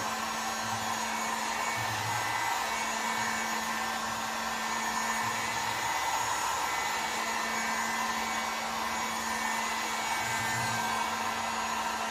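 A heat gun blows steadily while heating the end of a part for a 1971 Honda CT70 motorcycle, producing a constant airy whir with a steady hum, unbroken for the whole stretch and without talk.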